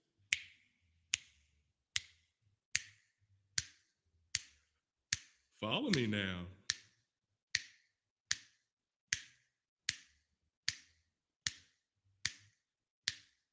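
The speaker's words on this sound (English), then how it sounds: "Snap your fingers." Fingers snapping in a steady, even beat, about one crisp snap every 0.8 seconds for over thirteen seconds, close and alone except for a brief spoken line partway through.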